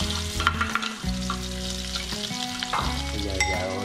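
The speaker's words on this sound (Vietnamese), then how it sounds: "Giờ mình phi hành." Scallions frying in oil in a pan, a loud close sizzle with stirring scrapes and crackles throughout.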